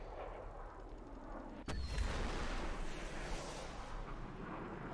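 Vehicle gunfire in War Thunder: one sudden sharp blast partway through, followed by a sustained rumbling roar over a constant low background hum.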